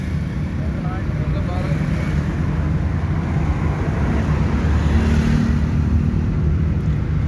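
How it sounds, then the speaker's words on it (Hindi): Steady engine drone and road noise from inside a car cruising in third gear during a driving lesson, continuous and fairly loud, with an instructor talking over it. "अभी थर्ड गियर में चल रही है गाड़ी"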